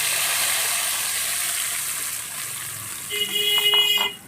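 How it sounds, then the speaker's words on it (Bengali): A spice mixture of onion, garlic, ginger, coriander, cumin, turmeric, salt and sugar fries in a pan for aloo dum, giving a steady close sizzle that fades near the end under a few brief tonal bleeps. "এটা বেশ ভাজা হয়ে গেছে"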